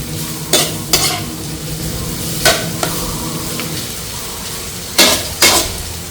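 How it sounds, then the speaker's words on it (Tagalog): Chopped ginger sautéing in a pan for Filipino goto, a steady sizzle and frying hiss broken by several sharp metallic clanks of a spatula or spoon stirring against the pan. "Kain lang po natin maluto yung luya bago po natin isunod ang bawang."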